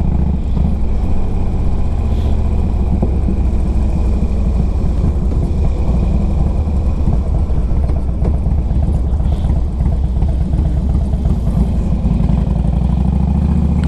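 A 2005 Harley-Davidson Road King Classic motorcycle on a test ride, its engine rumbling loud and steady throughout with constant wind buffeting, no talking.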